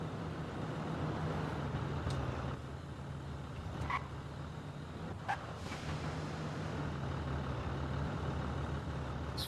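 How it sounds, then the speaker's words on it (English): The tires of an electric car roll in Forza Horizon 5, a steady, faint road rumble and hum with no engine note and a few light ticks over it. "It's funny, you only hear the tires, not the engine."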